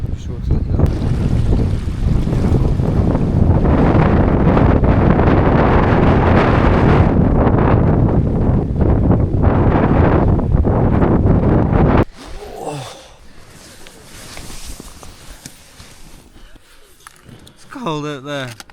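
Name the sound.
strong wind blowing outdoors, around 60 mph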